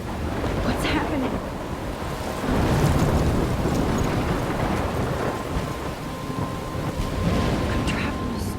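Thunderstorm in the Life Is Strange Chrysalis video game: loud continuous rain with rolling thunder swelling around the middle, a dense steady roar throughout.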